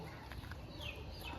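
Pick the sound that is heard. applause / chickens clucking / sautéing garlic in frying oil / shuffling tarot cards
chickens clucking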